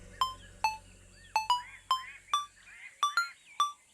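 A phone rings with an incoming call: a bright electronic ringtone of short chirping tones repeating in quick pairs and singles, fairly quiet and heard alone over a faint low hum that fades out.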